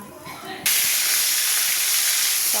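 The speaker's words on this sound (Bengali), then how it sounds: "বোয়াল মাছ খুব তেল ছেটে," Boal fish sizzling in hot cooking oil: a loud, steady hiss bursts in suddenly as the fish goes into the pan and keeps up without a break, following a quieter stretch.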